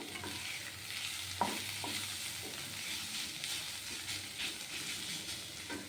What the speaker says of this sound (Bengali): আমার শাক ভাজা হয়ে গেছে